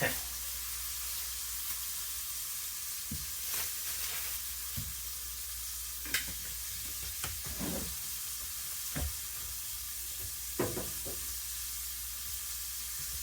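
Shrimp for a kiwi lime recipe sizzle and fry in a pan with a constant hiss. Occasional soft clinks and scrapes of a utensil are heard, with faint talk in the background.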